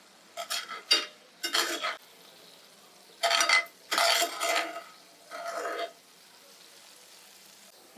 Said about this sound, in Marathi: एकदा ढवळत आहे दुसऱ्या डिशमध्ये काढून घेतो